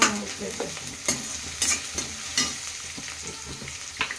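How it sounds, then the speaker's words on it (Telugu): Garlic, onion and green chili sautéing in oil in a pan: a steady close sizzle broken by regular scraping stirs and spatula taps about every half second. "ఈ ఎల్లిగడ్డ ఉల్లిగడ్డ వేసేసాను మిర్చి కూడా మిర్చి ఉల్లిగడ్డ ఇది కొంచెం మగ్గాలండి"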